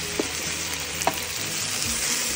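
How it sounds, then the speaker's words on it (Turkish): Potatoes frying in oil in a big pot give a steady, dense sizzle throughout, with a couple of sharper pops and no voices. "Bir kazan patates kızartıyorum."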